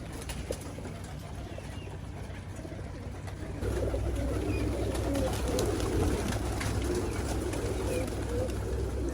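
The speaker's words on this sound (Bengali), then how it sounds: "আমি খাবার দেওয়ার আগে অলরেডি কিছু নিচে চলে আসছে পাখিগুলো এসে রেডি হয়ে আছে" Pigeons gather in a flock awaiting feed, soft cooing and occasional wing flaps over a constant outdoor hum that grows louder partway through.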